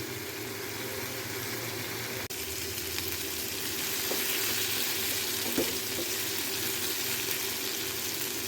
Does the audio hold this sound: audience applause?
no